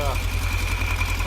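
A 2016 Polaris Ranger 900 crew utility vehicle engine idles with a steady low throb and a faint whine above, close by and constant throughout.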